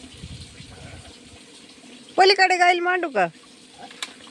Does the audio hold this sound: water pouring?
yes